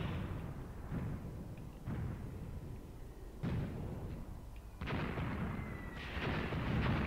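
Distant artillery and gunfire on a 1942 Kharkov battlefield in Graviteam Tactics, low muffled booms and rumbling thuds at irregular intervals over a steady background roar.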